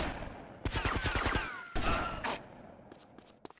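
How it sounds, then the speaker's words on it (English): Burst of rapid gunfire in GTA Vice City Stories, a quick string of close, sharp shots followed by a second short volley, then a few faint scattered pops. "I'm gonna shoot"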